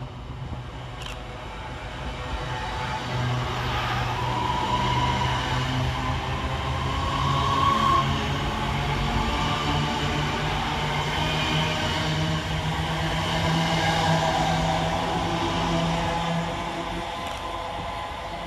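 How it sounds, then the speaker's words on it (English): Class 323 electric trains pass through Duddeston railway station, a moderate rolling rumble with a steady low whine that swells and fades over the pass, heard without talk. "Next to pass through the station is 323-212 and 323-207"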